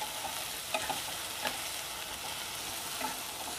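Chopped tomatoes sautéing in a pan for a dried bombil fish dish, giving a constant close sizzle with a few soft spatula scrapes spaced through it.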